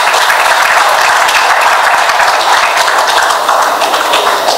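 Loud, dense applause from a crowd, a steady wash of clapping that holds throughout without any voices standing out.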